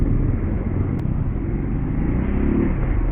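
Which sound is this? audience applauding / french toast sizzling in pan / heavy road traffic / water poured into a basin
heavy road traffic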